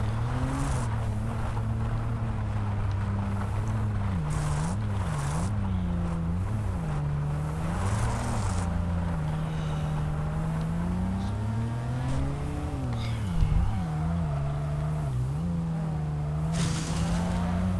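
A race car's engine in a racing video game drones and revs continuously at close range, its pitch rising and falling, with bursts of tire squeal and no talking.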